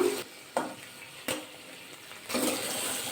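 Ash gourd pieces fry on a high gas flame, a bright sizzling hiss that swells and settles as the pan is stirred, with a few sharp knocks and a louder burst near the end.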